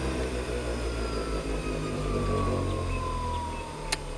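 A car engine running steadily at high revs, a continuous loud drone with a rising whine and no voices.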